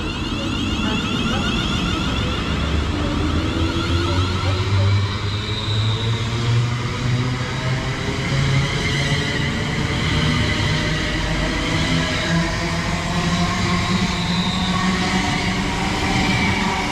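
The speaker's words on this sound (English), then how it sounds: "going out now is a 1023 service to Birmingham New Street" A passenger train pulls out of Birmingham International on the West Coast Main Line, bound for Birmingham New Street, its loud, close, continuous rumble carrying rising and falling motor tones and faint wheel squeal as it gathers speed.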